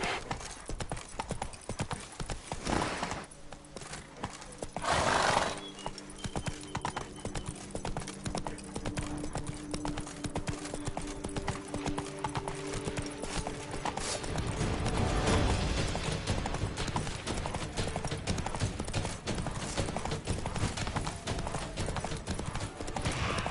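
Hooves of Roach, the horse in The Witcher 3 video game, clip-clop in a quick steady galloping rhythm throughout, with occasional game sounds and a brief line of speech.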